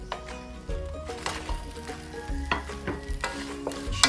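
Chicken sautéing in a pan, with a steady sizzle of frying under repeated clinks and scrapes of stirring, close and fairly loud.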